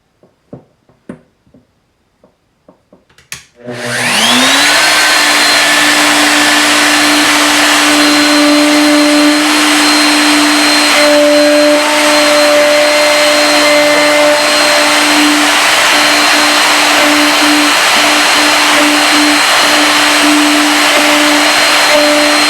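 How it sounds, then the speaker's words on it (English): A router cuts holes in the lid of a wooden tool chest, starting after a few quiet clicks with a loud, steady high-pitched whine that spins up and then holds constant. "So I set my router for the deep cut."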